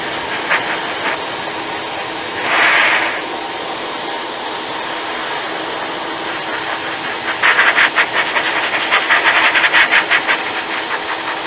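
A small air pump blows a freshly cleaned DVD dry. Its steady, loud whirring hiss runs throughout, with a few louder bursts of rushing air partway through and near the end, and no talking.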